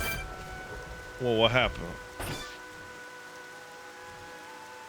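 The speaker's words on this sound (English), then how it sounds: "It started raining" Rain falls in the video game Xenoblade Chronicles DE, a soft continuous patter under a gentle musical drone, with someone speaking briefly over it partway through.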